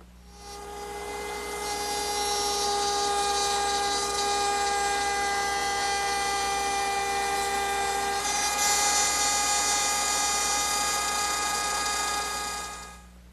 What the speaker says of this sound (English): finish the rabbeting